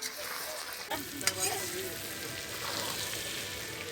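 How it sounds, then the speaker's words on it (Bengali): Mutton kosha bubbles and sizzles hot in a pot at an outdoor picnic, a steady close crackling hiss with occasional sharper pops. A voice is faintly present under the cooking. "মটন ফুটছে গরমা গরম"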